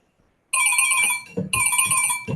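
A phone rings during an online geometry lesson: two loud electronic ring bursts, each about a second long, separated by a brief gap, with no voices.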